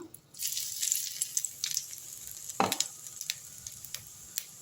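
Cinnamon, fennel seeds and cardamom fry in about fifty grams of hot oil for a chickpea curry, giving a close, steady sizzle and crackle broken by a few sharper stirring clinks and pops.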